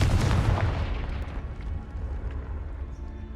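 A Confringo blast spell in the Hogwarts Legacy video game: one heavy, close explosive boom that bursts loudly at the start and then rolls off into a long, fading rumble.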